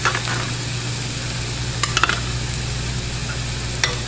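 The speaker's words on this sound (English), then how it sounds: "Then I'm going to add the garlic." Garlic sizzling in a hot pan with sweated vegetables, a constant close frying hiss with a low hum beneath and a few sharp scraping clicks as it is stirred.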